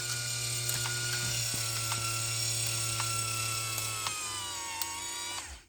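The power antenna motor of a 1976 Cadillac Eldorado runs in a steady mechanical whir with a tonal hum and faint periodic ratchet clicks. It is heard close up and alone, then cuts off at the end.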